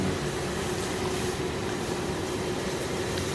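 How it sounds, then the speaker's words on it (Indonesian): At a plastic waste recycling plant, a blower machine that sucks shredded plastic upward gives off a constant, dense rushing roar with a faint steady hum, unbroken throughout. "ini kita lihat ya di sini mesin blower ya di sentrinya ya"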